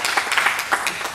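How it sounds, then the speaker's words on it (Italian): Audience at a sustainability fair event clapping, a short burst of brisk, fairly close applause with sharp overlapping claps. "un applauso ancora"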